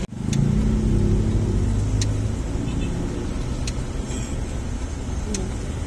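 Road traffic on a drive to Bulacan in the Philippines: a steady, fairly loud rumble of car engines and tyres close by, easing slightly after the first couple of seconds, with faint higher clicks and no talk.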